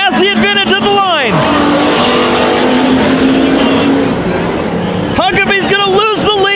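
Stock race cars roar around the Ocean Speedway oval in a full field of 22, engines droning loud and continuous with a commentator talking over the start and end.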